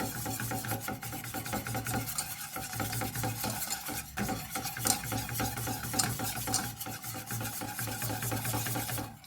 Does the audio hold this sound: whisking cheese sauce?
yes